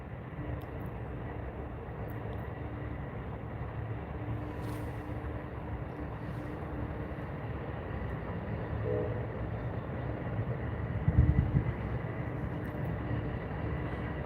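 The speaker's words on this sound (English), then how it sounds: "this is a long coal train" A long coal train rolls past at a snowy rail junction, a steady low rumble of wagons continuing throughout, with a brief louder thump near the end.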